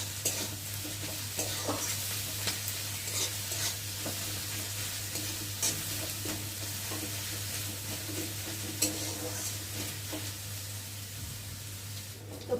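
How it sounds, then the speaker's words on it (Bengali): Chopped onion and garlic frying in a pan, a steady close sizzle with light stirring scrapes throughout and a low constant hum underneath. "তো পেঁয়াজটা রসুনটা ভাজা ভাজা হয়ে এসেছে"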